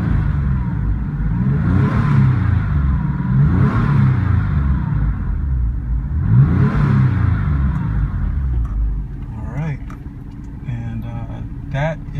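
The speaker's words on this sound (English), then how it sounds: "Let me rev it up." A Porsche 911 (996) engine rises from idle in three rev swells, the flat-six climbing and falling each time before settling back to a steady idle, loud and close.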